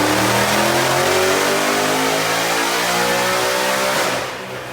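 A supercharged 2018 Ford Mustang GT V8 revs hard and loud, its pitch climbing steadily through the run before easing off at the end, with no voices over it.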